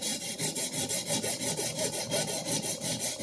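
Rhythmic abrasive strokes of a vintage Clyde Cutlery chef knife being sharpened on an Atoma 400 grit diamond plate, a close scraping rasp repeating about five times per second and steady throughout.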